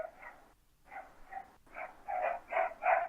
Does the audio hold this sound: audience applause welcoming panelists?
no